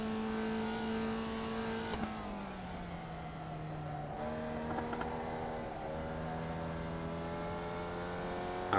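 Simulated race car engine in iRacing holding a steady high drone at full throttle, with pitch dipping slightly and climbing again through gear changes, continuous and moderately loud throughout.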